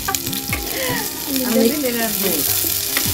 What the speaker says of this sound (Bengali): পেঁয়াজ কুচি আর মরিচ ফালি ভাজা হচ্ছে তেলে।